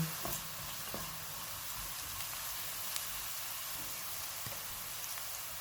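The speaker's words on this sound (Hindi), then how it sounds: "इनमें 1 टीस्पून अदरक और लहसुन का पेस्ट डालेंगे और इसको 1 से 2 मिनट तक भूनेंगे" Ginger-garlic paste frying with onions in a pan, a steady, soft broadband sizzle with faint crackles and occasional light stirring taps, close and continuous with no talk.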